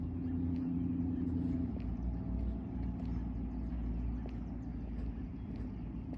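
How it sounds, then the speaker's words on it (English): A loud car passes on a street during a quiet walk, a steady low engine rumble holding throughout and easing slightly toward the end, near and continuous with no talk. "There's this loud car coming up now"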